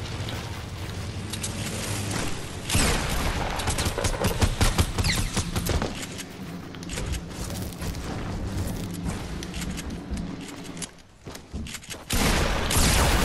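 Dense, loud bursts of gunfire from a team rumble match in Fortnite, with sustained rapid shots and booming impacts running almost the full length amid heavy game noise.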